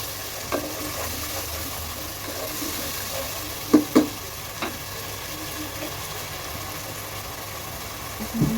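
Ginger and garlic frying for beef tehari: a steady, close sizzle of oil with a few light spatula taps against the pan.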